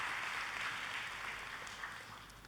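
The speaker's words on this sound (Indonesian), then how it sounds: "Tepuk tangannya yang paling meriah buat Tuhan" A church congregation claps during a worship service, a soft, steady wash of applause heard from a distance that fades slightly toward the end.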